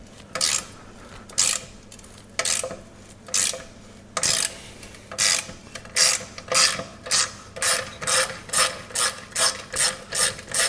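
A ratchet with a 12mm socket works bolts on a motorcycle exhaust. Close, crisp clicking comes in short bursts, first sparse and then in a quick, regular series of strokes.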